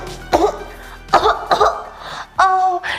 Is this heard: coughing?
yes